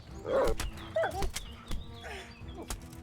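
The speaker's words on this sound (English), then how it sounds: "Dogs." Dogs bark and growl in Kingdom Come: Deliverance, several short, fairly faint barks scattered over a few seconds amid thuds and ambient game noise.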